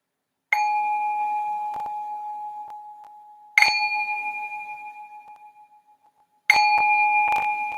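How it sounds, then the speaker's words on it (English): A meditation bell is struck three times to open a session, each strike a bright, clear ring that hums on and slowly fades in an otherwise silent room, with small taps at some of the strikes. "I'm going to ring this bell to signal the start of the session"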